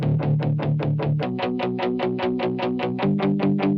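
A heavily distorted, palm-muted synth guitar, its distortion run through an EQ for an amp-like tone, chugs in a fast, steady rhythm of short, gritty notes, shifting pitch partway through.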